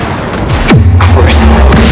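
A Bombarda blasting spell cast in Hogwarts Legacy, a single loud close boom with a falling whoosh, followed by a low sustained rumble and a few smaller cracks.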